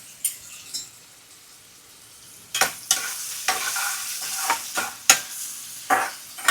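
Curry leaves and coriander roast in a pan, with quiet sparse scrapes at first, then louder bursts of sizzling and stirring that come in uneven surges, heard close with no talking.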